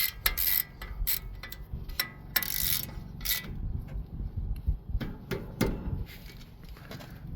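A ratchet clicks in irregular bursts while tightening the 13 mm brake bolts on a 2020 Ford Raptor, close and fairly loud, with tool knocks and metal handling between strokes and no talking.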